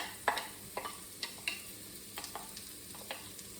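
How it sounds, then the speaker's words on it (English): Onions frying in a tablespoon of butter, with a faint steady sizzle broken by a series of light scraping stirs and utensil taps spaced about half a second apart, no voices. "Now the recipe suggested using a tablespoon of butter to fry off the onions"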